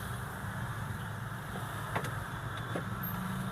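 Traffic jam outside a hospital in Palembang, Indonesia: a steady low rumble of idling cars and road vehicles, with a few faint clicks and knocks over the continuous hum.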